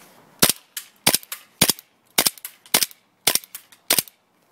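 OD green airsoft M1911 pistol firing BBs, a series of about eight sharp, loud snapping shots at uneven intervals, each followed by a fainter mechanical click, close by with no talk.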